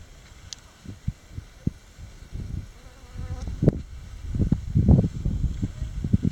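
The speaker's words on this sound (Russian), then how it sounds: "что у тебя на шляпе мухи." Flies buzz close by in short, irregular bursts that swell and fade, growing busier toward the end.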